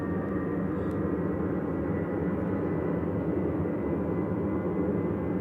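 Airliner on its takeoff roll at Manchester Airport, bound for Copenhagen, a loud sustained low engine roar that stays steady and heavy throughout, with no voices over it.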